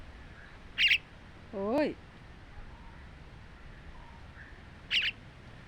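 A myna bird gives three sharp calls, two short high chirps framing a longer warbling squawk, close and clear over a quiet room, with a brief human voice nearby.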